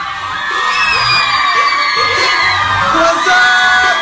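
A large crowd of girls screeches and shouts continuously, a loud, high-pitched roar that swells and holds for several seconds with no pauses.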